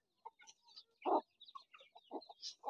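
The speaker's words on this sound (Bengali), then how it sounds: "তো মুরগি দেখেন বিটল পোকা খাওয়ার জন্য কত পাগল" Domestic chickens cluck in short, soft, irregular bursts while pecking at beetles, a close and otherwise quiet farmyard scene with no talk.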